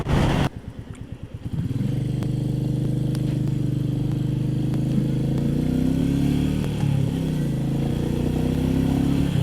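A Royal Enfield Meteor motorcycle rides along a road on a sunny winter day, its engine note starting with a brief idle then settling into a steady, close cruising drone with slight shifts in pitch.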